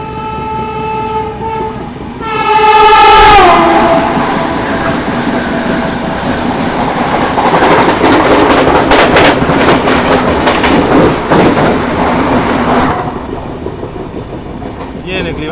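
A Vande Bharat express train approaches with a horn blast that bends in pitch, then roars past at speed with loud rushing wheels and rhythmic track clatter before fading.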